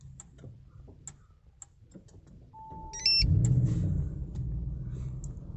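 A 2021 Audi RS6 fitted with a Starline i96v2 immobiliser gives a short tone, a brief electronic melody, then its engine turns over and settles into a steady close idle rumble.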